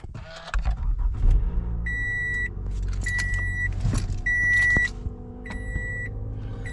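A 2014 Toyota Camry with a low-idle and stalling fault idles as it warms up, a steady low engine rumble beneath repeated electronic chime beeps and a few mechanical clunks.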